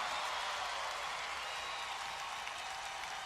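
A college arena crowd applauds a women's gymnastics dismount landing at an NCAA meet: sustained, fairly faint, distant clapping spread across the crowd.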